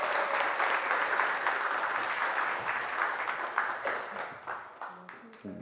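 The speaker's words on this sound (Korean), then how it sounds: "박수 부탁드립니다." Audience applause at a Korean parenting talk concert in Daegu, a dense, steady clapping from a crowd that gradually thins into scattered claps toward the end.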